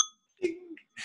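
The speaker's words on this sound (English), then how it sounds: "I heard the bell" A single bright bell ding rings at the very start and decays quickly, followed by a brief voice in the background of a podcast recording.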